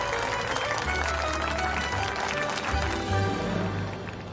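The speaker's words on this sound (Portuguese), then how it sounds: "senhoras e senhores, queiram aplaudir a nova presidente da Sex Delícia, Marion Almeida." An audience applauds the introduction of a new company president, with loud sustained clapping from a crowd alongside a low hum, tapering slightly at the end.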